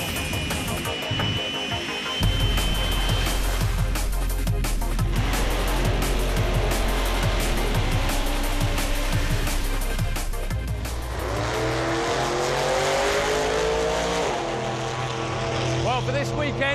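Race cars pass on a wet track, their engines roaring loud and continuous with shifting pitch as they drive by, and a commentator talks over the engine noise.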